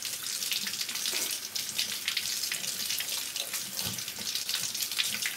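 Tap water runs steadily into a sink while makeup brushes are rinsed of soap, a continuous close splashing hiss with small irregular spatters and no talking.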